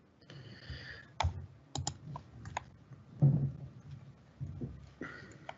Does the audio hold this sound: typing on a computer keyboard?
yes